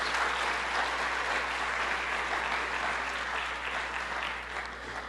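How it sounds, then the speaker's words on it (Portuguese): Steady, dense applause from a church congregation fills the whole stretch, even and sustained at moderate loudness with no voices standing out. "vamos aplaudir as pessoas especiais que não conseguem ele ainda."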